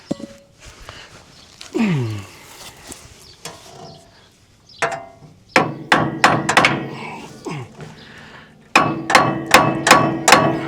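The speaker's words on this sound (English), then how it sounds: "There's a little hammer." A small hand hammer strikes metal on a New Holland H7220 tractor while a new spline is driven in. Sharp metallic taps land in scattered groups, then come faster and louder in repeated bursts near the end, with shuffling and handling noises in between.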